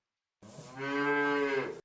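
A cow gives a single long, close moo that swells and then cuts off, heard alone after a brief silence.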